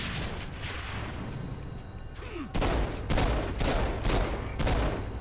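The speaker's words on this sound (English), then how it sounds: "Sorry, guys, shooting at me now" Enemy gunfire in the video game Saints Row IV: bursts of rapid shots at steady intervals over a dense, rumbling battle backdrop, loud and close, with a short whooshing streak partway through.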